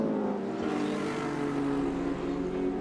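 Group A touring cars racing at Amaroo Park in 1987, a dense, steady roar of several engines at high revs heard at a distance, running continuously with no break.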